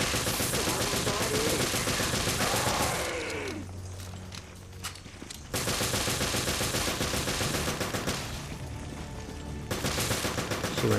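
Rapid gunfire at a boss in Resident Evil Revelations Raid Mode, dense loud bursts of repeated shots with a short quieter gap in the middle, then more shooting over game sound.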